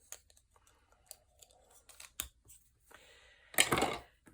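Scissors trimming paper for a pop-up book page, with small quiet snips and rustles followed by one louder, crisp cut near the end.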